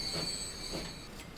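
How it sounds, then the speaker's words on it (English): A loaded stone train in Transport Fever rolls into a plant station, a steady rumbling rail sound with faint high squeal tones, fairly quiet and continuous. "This is a full stone train that is getting ready to stop here at the plant station."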